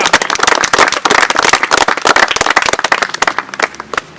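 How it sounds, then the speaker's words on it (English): Applause from an audience at the opening ceremony of the Holt Park entrance in Leeds, a dense burst of close, loud clapping that gradually thins into scattered claps toward the end, with no talk over it. "can we have a joint round of applause for the children of Cumbridge and for Chris"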